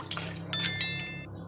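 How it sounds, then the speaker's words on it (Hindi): Water splashes and trickles into a metal pressure cooker holding lentils, with a bright ringing clink at the start, then fades; brief and fairly close. "इसके अंदर थोड़ा सा पानी हम और ऐड करेंगे"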